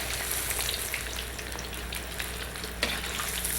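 Chunks of tofu deep-fry in hot oil, a steady dense bubbling sizzle at moderate level with one brief clink from moving them around.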